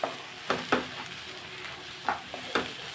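Gongura leaves frying in a pan with turmeric and chili give a steady close sizzle, broken by several sharp scraping stirs of a spoon against the pan at an uneven pace, with no talking.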